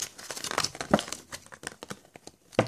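A Pokémon card blister pack, a Flashfire blister, is torn and wrestled open, producing close, irregular bursts of plastic crinkling and crackling with a few sharper snaps, and no talking.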